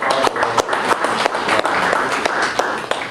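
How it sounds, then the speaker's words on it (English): Audience applause at a workshop session at the UN Pavilion of the Shanghai Expo, loud, dense clapping from many hands close by, sustained with sharp individual claps popping out irregularly. "let's applaud Mark for"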